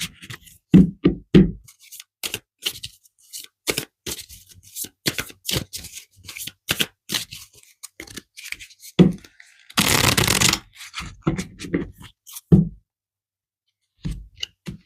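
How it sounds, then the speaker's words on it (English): Angel cards shuffled by hand for a tarot reading, sharp riffling taps and slaps in irregular bursts with a longer riffle near the middle, close and alone. "I'm going to pull an angel card here for you guys"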